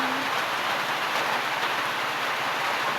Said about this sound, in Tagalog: Lagi na lang umuulan dito sa probinsya